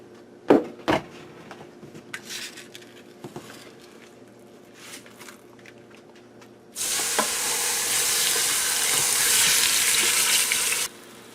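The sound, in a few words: pork tenderloin browning in olive oil in a pressure cooker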